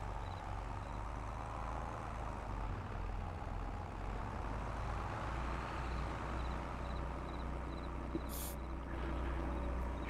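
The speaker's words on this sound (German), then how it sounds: "Deswegen fahre ich mit dem Traktor rein." Steady low diesel rumble of a tractor driving in Landwirtschafts-Simulator 22 at night on a farm, a constant engine drone with no talk and a brief high whine near the end.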